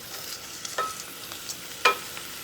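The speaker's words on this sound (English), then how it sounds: "while he is stirring the green beans and onions around in the bacon grease" Green beans and onions pushed around a pan of sizzling bacon grease, a soft frying hiss under a few sharper scraping stirs of a utensil against the pan.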